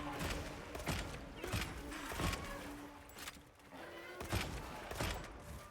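Heavy bowgun shots in Monster Hunter Wilds, a series of thumping, fairly faint booms spaced about a second apart over a muffled battle background.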